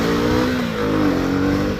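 A motorcycle fitted with the Duke 250 engine accelerating hard close by, its loud buzzing engine note rising and holding steady for the whole moment.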